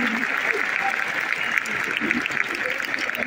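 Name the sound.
audience applause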